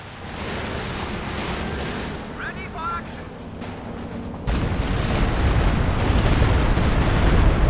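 An artillery barrage in a real-time strategy video game: a steady bed of rumbling distant shelling that swells into a heavier, denser roar about halfway through, with a commentator talking over it.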